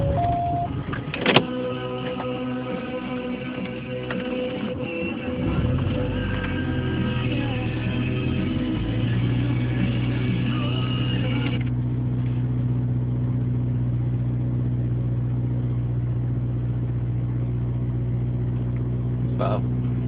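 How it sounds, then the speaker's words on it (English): A 1992 Volkswagen Passat with freshly changed spark plugs cold-starts on a chilly morning of about 40 degrees. A sharp crank and catch comes early, followed by a steady, close, low engine idle that continues to the end. "this is my 92 VW Passat cold start"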